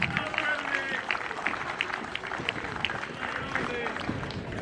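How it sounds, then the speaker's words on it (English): Crowd applause at a football cup final awards presentation at C.B. Smith Reserve, honouring former Socceroo Josh Kennedy; a dense, steady patter of clapping from a nearby crowd, with some voices mixed in. "round of applause for Josh Kennedy"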